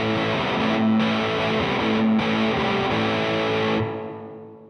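An electric guitar plays through a spring reverb effect, with sustained distorted chords held loud and steady, then cut off so the splashy reverb tail rings out and fades over the last second.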